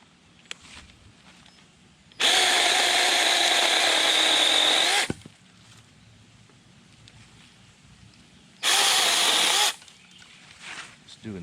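A 36V lithium-ion mini chainsaw with a 6-inch bar cuts through a tree limb in two loud, steady high-pitched whining bursts, one long and one short, separated by quieter outdoor background.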